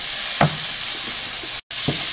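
Shrimp frying in a pan with chili and turmeric powder gives a steady close sizzle, punctuated by a few soft stirring scrapes and a brief cut-out near the end.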